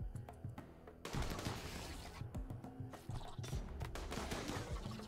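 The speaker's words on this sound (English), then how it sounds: "We need to shoot them." Rapid gunfire from shooting bugs in a desert-themed video game, with dense bursts and clattering impacts running continuously behind game sounds.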